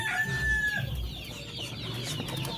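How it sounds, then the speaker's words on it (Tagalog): Chicks cheep and chickens and ducks cluck and chatter nearby, high cheeping mixed in, a busy continuous farmyard chorus. "maingay na rin yung ating mga sisiw"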